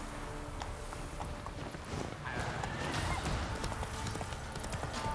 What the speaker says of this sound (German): Wir müssen mal ganz kurz reiten.